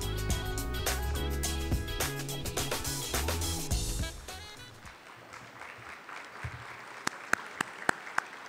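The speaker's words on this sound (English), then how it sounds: "Please give a round of applause to Sean Mosier, lead investigator and Advocate Award winner" Audience at an awards ceremony claps in sustained applause that thins out into scattered, sharper individual claps toward the end.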